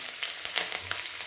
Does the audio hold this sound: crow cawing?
no